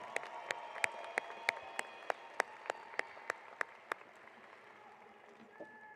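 A single pair of hands claps sharply and evenly about a dozen times, close and distinct, then stops; the wider graduation ceremony crowd stays faint and murmuring beneath, and a soft tone lingers at the end.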